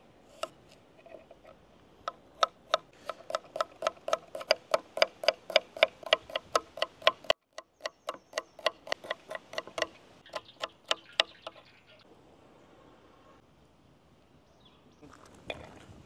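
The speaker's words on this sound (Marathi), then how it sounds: "आपण आता भाजीसाठी कांदे कापून घेऊ।" A knife chops onions on a cutting board for a mutton curry. Close, crisp chops land in a quick, even rhythm in two runs separated by a short pause, then taper off into quiet.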